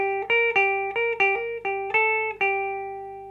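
A rockabilly electric guitar riff plays a short run of plucked notes that ring out with a slapback echo, bright and clear with no talking.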